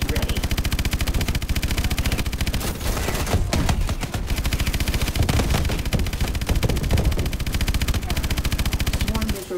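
The main gun in the video game EXO Campaign fires as a loud, rapid, continuous stream of automatic shots that hammers on for the whole stretch, with only a brief dip in the middle.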